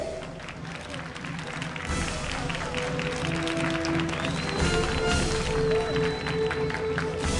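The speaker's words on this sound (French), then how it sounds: "Applaudissez-le, s'il vous plaît." Applause from an office gathering greeting a new agency partner, a sustained clapping crowd with some cheering, loud and close, with voices mixed in.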